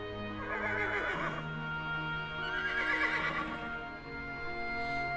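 A horse whinnies twice in close succession, each call a loud, quavering neigh lasting over a second, with faint hoof sounds in a quiet background.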